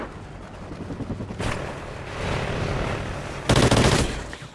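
AK and MK-14 rifle fire in an online shooter, a few loud rapid bursts of automatic shots close by with brief gaps between volleys.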